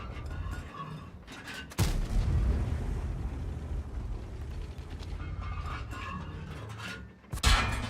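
Tank cannon fire in the World of Tanks game: a sharp, loud blast near 1.8 s with a long rumbling tail, then another heavy boom at the end of the stretch.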